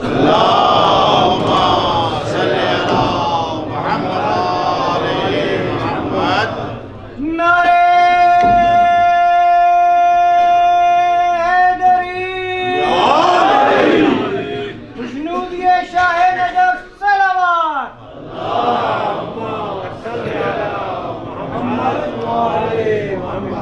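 A mosque congregation at a Shia majlis for the martyrdom of Bibi Fatima Zahra recites salawat loudly in unison. A long, sustained chanted tone swells above crowd murmur, then a burst of massed voices follows, with talk before and after.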